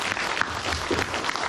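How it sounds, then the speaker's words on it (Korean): Brief burst of audience applause welcoming a lecturer at a high school admissions briefing, dense and even clapping from a crowd, heard for about a second and a half. "뜨거운 박수로 우리 강사님을 받아주시기 바랍니다."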